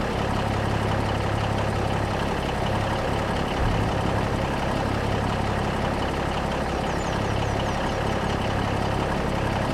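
A truck and trailer tipping sugarcane on a Louisiana farm in Farming Simulator 25 gives a loud, continuous low engine idle with a steady mechanical rumble that runs throughout without a break.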